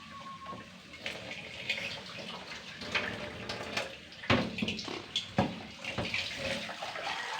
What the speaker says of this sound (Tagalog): Naghuhugas siya ngayon.